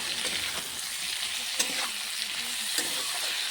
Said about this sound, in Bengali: দিয়ে এটা কাঁচা স্মেলটা যাওয়া অবধি আমি ভালো থেকে ভেজে নেবো পেঁয়াজটাকে